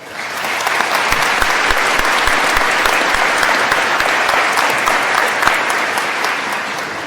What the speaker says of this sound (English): I'd like to acknowledge them and give them a round of applause